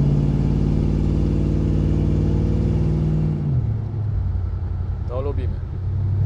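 A Plymouth Sport Fury engine revs high, its loud steady drone heard from inside the cabin before dropping to a lower hum as the revs fall; a voice cuts in near the end.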